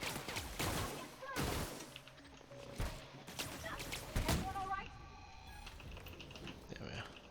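Several sharp weapon shots from an acid gun in the video game The Outer Worlds, spaced irregularly and mixed with clicking mechanical game sounds, all fairly quiet and low in level.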